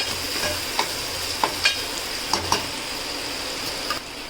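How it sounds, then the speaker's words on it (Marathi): Tomatoes simmer and fry in prawn juice until soft for an Agri Koli-style spicy creek prawn curry with brinjal and potato. A steady soft sizzle runs throughout, with a handful of sharp spoon taps and stirring clicks scattered over it. "टोमॅटो आपल्याला पूर्णपणे शिजवून घ्यायचा एकदम नरम होईपर्यंत"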